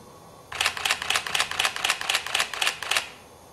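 A Nikon D5000 camera shutter fires in continuous shooting at 4 frames per second: a rapid, even burst of about ten crisp, close mechanical clicks lasting roughly two and a half seconds, then silence.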